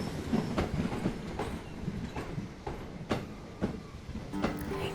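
An American passenger train running on the rails, heard from inside as a low steady rumble with repeated clickety-clack wheel beats over rail joints and a faint squeal near the end.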